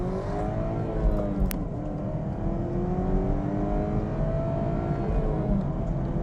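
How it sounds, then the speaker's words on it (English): A 2019 Chevrolet Camaro 1LT 1LE with a four-cylinder engine, its engine and exhaust droning steadily as revs rise and fall in smooth sweeps, a moderately loud, fairly subdued whirring tone heard alone. "But a stiff ride is not where this car is let down, it is the sound, as Thomas shall now demonstrate"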